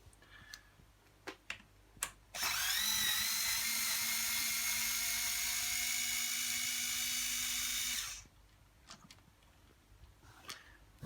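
A powered driver with a Torx T20 bit backs a screw out of a Babyzen Yoyo stroller arm: a few light clicks and taps, then one high whirring spin of about six seconds, close by, followed by more small handling clicks.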